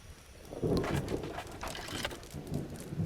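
Rain and thunder build in a video game as a storm approaches, a steady wash of rainfall with low rumbling bursts, fairly faint and with no voices.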